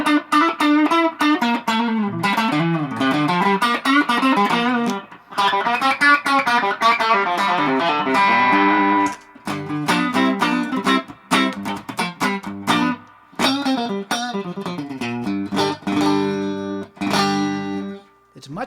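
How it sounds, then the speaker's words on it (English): A Don Grosh Retro Classic Strat-style electric guitar with three single-coil Lawler pickups plays a long stretch of lively notes and chords, with brief pauses in between and a bright, clear tone. "This other guitar that I'm going to pick up right now is a Don Grosh Retro Classic"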